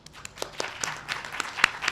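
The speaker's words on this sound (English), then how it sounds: "Give yourselves a round of applause." An audience at a building dedication celebration applauds, brief scattered claps building into moderate applause in a hall, heard at medium distance.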